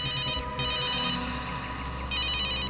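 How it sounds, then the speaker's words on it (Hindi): A phone rings with an incoming call, bright electronic ringtone bursts sounding in repeated phrases with short gaps between them, close and clear over a low background hum. "अभिजीत का फोन है।"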